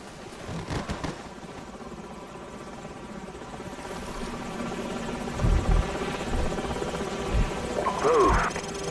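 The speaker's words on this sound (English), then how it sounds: "Enemy helicopters." Enemy helicopters in the video game Call of Duty Modern Warfare, a steady rotor drone throughout with heavier low thumps and bursts of game action midway and near the end.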